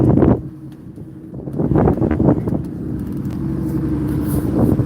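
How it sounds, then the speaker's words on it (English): Wind buffets the microphone outdoors in loud, uneven gusts, mixed with a low engine rumble from motors running nearby. "Wind's blowing"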